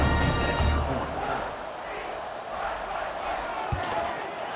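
Roaring crowd at a college football game between App State and Georgia Southern, a broad sustained wash of cheering and shouting in a stadium, steady and loud without clear breaks.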